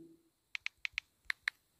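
Fingers tap on a mobile phone's on-screen keyboard, six short crisp clicks in two quick pairs and a final pair, close and quiet against a silent background.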